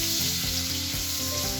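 Garlic frying in hot oil and butter, a steady close sizzle running throughout with faint stirring, no voices.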